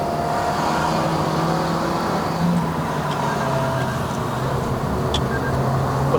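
A 2023 Toyota Vios NGC102 climbs and corners on the uphill road to Genting in Malaysia, its engine droning steadily under loud road and wind noise inside the cabin, with the pitch shifting slightly as it goes.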